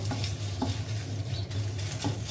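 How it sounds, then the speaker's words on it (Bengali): Dried red chilies fry in a pan with a steady, close crackling sizzle, broken by a few soft stirring scrapes, with no voices. "এখানে মরিচ ভেজে নেওয়া হচ্ছে, কারণ আজকে আমি সব শুকনা মরিচ দিয়ে ভর্তা করব"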